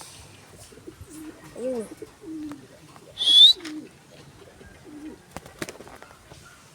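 Pigeons coo in short, low, rounded phrases, several in a row, close by and fairly clear, with a sharp brief chirp in the middle and a few faint clicks and rustles around them.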